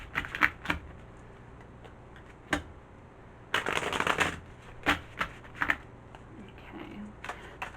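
Tarot cards shuffled by hand during a reading, heard as several short riffling bursts, one longer flurry in the middle, separated by quiet gaps; close and fairly soft.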